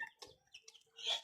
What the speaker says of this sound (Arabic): الاذان بتاعه دلوقتي كان بيدن بصوت عالي، فانا عرفت خلاص ان هو ديك